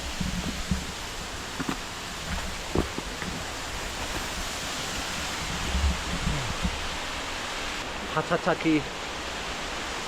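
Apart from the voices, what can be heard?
waterfall on a winter mountain hike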